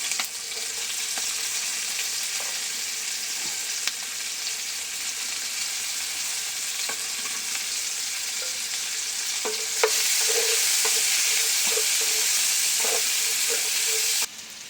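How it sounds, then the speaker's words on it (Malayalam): Onions and shallots sauté in oil left over from frying fish for a Kerala-style pepper fish dish. A steady, bright sizzle runs throughout, with scattered clicks of stirring against the pan and no voices. "നമ്മൾ മീൻ വറുത്ത എണ്ണയ്ക്കകത്തേക്കാണ് സവോള ഉള്ളി എല്ലാം കൂടെ വഴറ്റിയെടുക്കാൻ പോകുന്നത്"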